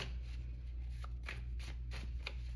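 Soft, irregular flutters and light riffling of tarot cards over a steady low hum, a few crisp snaps standing out near the end.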